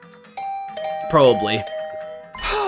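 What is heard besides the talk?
doorbell ringing in a video game (The Hundred Line)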